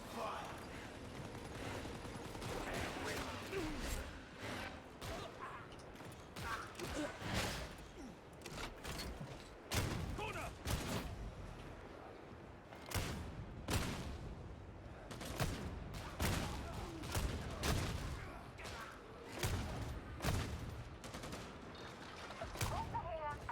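Dense gunfire fills a Warhammer 40,000: Darktide battle, rapid bursts and sharp shots stacking in near-continuous fusillades with brief lulls, loud and close, while voices speak over the shooting.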